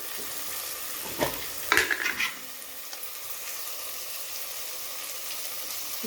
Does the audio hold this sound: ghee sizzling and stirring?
yes